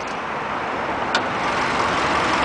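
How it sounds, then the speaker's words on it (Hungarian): A Toyota Auris 1.33 engine idles quietly with the bonnet open, a smooth, steady broadband hum with no talk. "Egy csendes motor kínál nekünk, nagyon szép csendesen jár."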